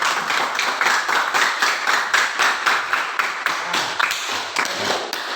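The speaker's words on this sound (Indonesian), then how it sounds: "Jadi untuk itu kita beri tepuk tangan kepada semua kelompok." A classroom full of students claps for all the groups, a steady, fairly loud round of hand claps with a regular rhythm and no talking.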